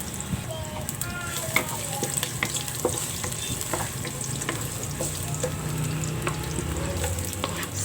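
Crushed garlic and sliced onion sautéing in a pan for okra and string bean adobo, a steady close sizzle with occasional stirring clicks and scrapes, no talking over it.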